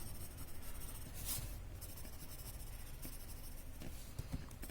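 A graphite pencil shades on paper in soft, faint scratchy strokes, with a couple of brief louder rubbing passes.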